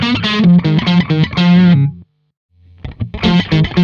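Distorted electric guitar lead tone through a Helix Stadium amp modeler, sustained harmonically rich notes in two phrases separated by a brief near-silent gap, loud and close.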